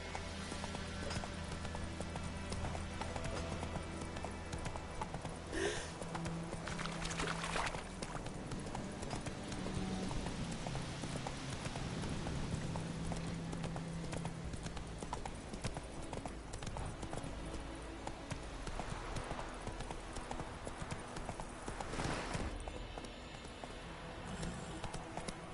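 Hooves of Roach, a horse in a game, gallop in a continuous clip-clop rhythm, close and steady for the whole stretch, over a soft background wash and music without talking.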